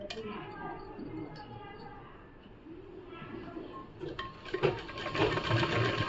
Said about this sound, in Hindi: इस पर हम लब सिलाई चलाएंगे एक चाप की दूरी पे।